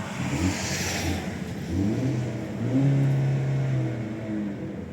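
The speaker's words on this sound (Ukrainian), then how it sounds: "ця машина в мене працює як часи." A car engine idles and revs steadily nearby, a low rumbling hum that rises and falls slightly without any voices.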